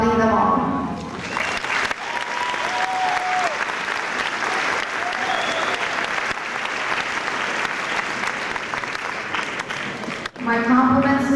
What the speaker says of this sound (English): Join with me in applauding them all.